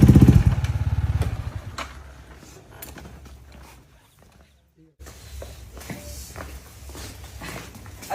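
A motorcycle engine rumbles loudly at first and then fades to quiet, with a brief silence before outdoor background noise and movement return; it suggests a bike arriving on a cold night outdoors.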